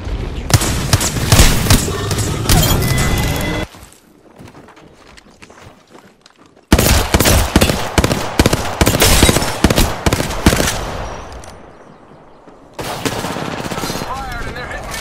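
Rapid automatic gunfire in a PlayStation 4 shooter, dense loud bursts broken by quieter gaps around four and eleven seconds, close and continuous, with game voices mixed in.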